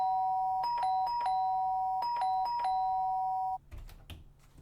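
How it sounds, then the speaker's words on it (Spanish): A doorbell rings over and over, its two-tone chime repeating in quick runs for several seconds before cutting off, leaving faint background rustle. "oía su peculiar forma de tocar el timbre, un repique continuo que solo cesaba cuando le abría"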